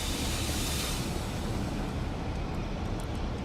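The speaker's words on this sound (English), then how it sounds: "crank on the brakes now" A train in Train Sim World on the Northern Trans-Pennine route brakes with a loud, steady broadband rush of hiss and rumble that holds evenly throughout. No one speaks.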